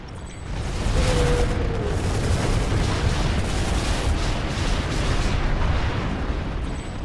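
A destroyed hardpoint explodes in a combat video game, a heavy rumbling blast that swells quickly and sustains a loud, roaring boom for several seconds.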